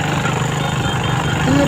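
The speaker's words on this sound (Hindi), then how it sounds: "अब बाइक का जितना रेस लेता हूँ उतना तेज़ भागती है" A TVS XL 100 BS6 fuel-injected moped with a pickup problem, its engine running steadily and revving, producing a dense continuous mechanical drone close by with no pauses.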